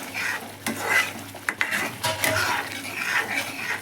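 Fried masala for mushroom gravy is stirred in a pan, a spoon scraping and clattering in irregular strokes over a soft background sizzle, with no talking.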